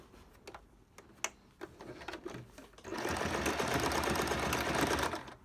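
A sewing machine stitches elastic onto a cloth filter-pocket mask with reverse stitching, starting with a few soft taps and clicks, then a loud, steady motor whir running near and continuous for about two and a half seconds.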